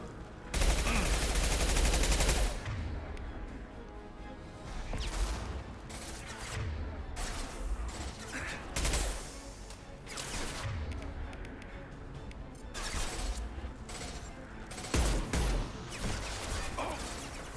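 Sci-fi gunfire in the game Mass Effect 2, loud repeated shots in bursts with crashes and whooshes of combat, continuous through the stretch of battle.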